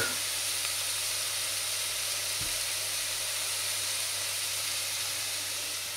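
Onions and garlic sizzle in a frying pan while chicken stroganoff cooks, giving a steady, even hiss at moderate volume with no one speaking.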